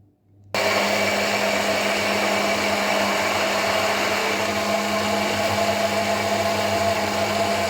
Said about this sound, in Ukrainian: Блендер ставлю саме на жовток і починаю збивати.